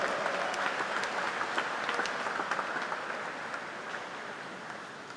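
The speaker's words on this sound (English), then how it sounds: "Another big round of applause for Sophie Pascoe." Applause for Paralympic swimmer Sophie Pascoe after the women's S9 100 metres freestyle at a national swimming championship finals session, a broad steady wash of crowd clapping in a large pool hall, slowly fading.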